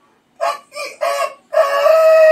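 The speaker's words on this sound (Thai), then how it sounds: "ป้าไก่มันขันป้าไม่ยินเหร" A rooster crows loudly and close by, three short rising calls followed by a long sustained final note, with no other sound around it.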